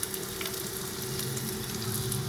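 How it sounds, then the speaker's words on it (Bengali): Chopped garlic frying in white oil in a kadai, a dense, close and steady sizzle with faint crackles throughout and no talking. "এবার কড়াইতে দেব সাদা তেল, তারপরে রসুন কুচিটা আগে দিয়ে দেবো"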